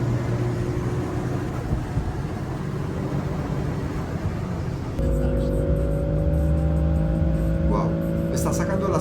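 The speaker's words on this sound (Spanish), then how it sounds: "estamos a 260, a cerca de 270 y este coche no para" Toyota Supra MK4 engine pulling hard at around 260 to 270 km/h on a record run, a loud sustained roar with rising tonal whine that shifts pitch midway, under continuous wind noise.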